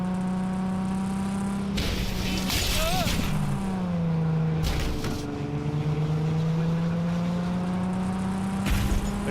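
Game cars in a Cyberpunk 2077 race hold a steady engine drone that rises and falls in pitch as they shift, loud and continuous over several seconds, with bursts of rougher noise mixed in.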